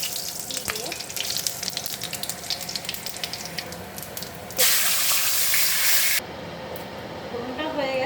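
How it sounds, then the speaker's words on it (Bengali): Dry red chillies and whole garam masala hit hot oil for a tempering, with a loud, steady sizzling hiss that swells sharply midway and then settles over faint kitchen background noise. "এবার ফোড়ন দিলাম শুকনো লঙ্কা,"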